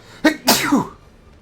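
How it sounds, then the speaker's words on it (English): A single loud sneeze, close by, with a short inhaled build-up before the explosive burst, then quiet. "I'm going to sneeze."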